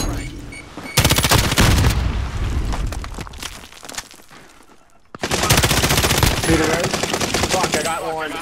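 Intense bursts of rapid automatic gunfire aimed at the player in a video game, two long loud volleys of close shots separated by a brief quieter lull with scattered distant pops.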